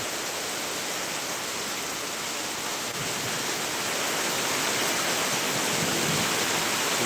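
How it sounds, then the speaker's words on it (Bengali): Heavy rain pours over Bhangura market in Pabna during a flood-like downpour, a dense, unbroken roar of water that swells slightly louder toward the end. "ভাই বর্ষা হয়ে গেছে বৃষ্টিতে একেবারে বর্ষা হয়ে গেছে ভাই বাজারেও পানি"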